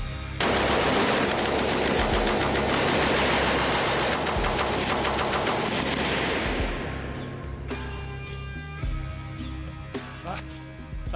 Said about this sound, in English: we just depress the triggers and away it should go